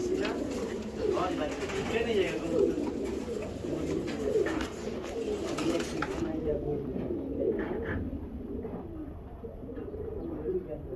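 A special blue checker racing pigeon, a male, coos in low, repeated rolling calls close by, with someone talking over the cooing and a chirp or two around.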